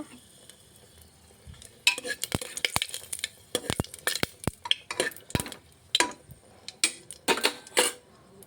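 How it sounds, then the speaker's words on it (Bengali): Dried red chillies and bay leaves fry in a pan, mostly heard as sharp metallic clinks and scraping from stirring, with a light sizzle between the irregular knocks. "শুকনো লঙ্কা, তেজপাতা একসঙ্গে ভেজে নেব।"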